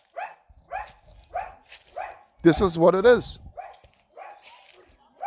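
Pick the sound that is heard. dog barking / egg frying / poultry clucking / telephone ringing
dog barking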